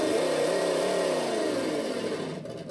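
A V8 engine sound module on a radio-controlled 1969 Camaro with a supercharger produces a steady, loud synthetic rumble that revs up and eases off slightly, heard alone at close range.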